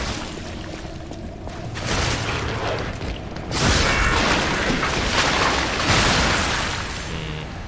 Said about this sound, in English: Don't get near his explosion.